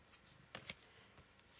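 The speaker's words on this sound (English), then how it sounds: "What's your thoughts about cards being shuffled on you" Playing cards are shuffled quietly close by, a couple of crisp riffling bursts against a soft, hushed background.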